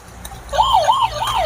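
A toy transformer robot ambulance car sounds its electronic siren, a steady wavering wail that rises and falls in repeated sweeps. It starts about a third of the way in and stays loud and close over faint background hiss.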